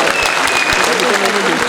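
Audience applause at a live stand-up comedy show in Delhi, a dense steady roar of many hands clapping that holds at an even, loud level for the whole short stretch, with faint voices mixed in.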